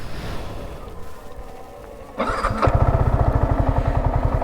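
A Yamaha R15M fuel-injected, liquid-cooled motorcycle engine cranks and catches, then settles into a steady, rapid putter of idling beats close by.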